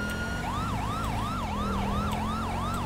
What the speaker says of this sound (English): you hear the sirens, you know there's a cop coming